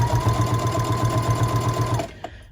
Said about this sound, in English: I can do a little back stitch and lock all my threads in